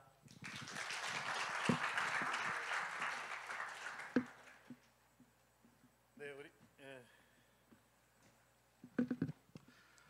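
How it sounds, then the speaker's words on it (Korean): Audience clapping after a talk at a worship leaders' conference, a dense burst of applause for about four seconds that then fades into scattered claps and quiet room noise with brief voices. "다시 한번 우리 좋은 강의해 주신 우리 이덕천 찬양사님께 감사의 박수하겠습니다"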